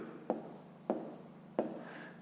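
A pen writes decimal numbers on paper for a fifth-grade math exercise, making three sharp, close taps and strokes spaced evenly apart in a quiet room.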